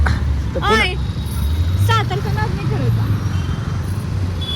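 Road traffic on FC Road in Pune forms a steady low rumble of passing cars behind people talking close by.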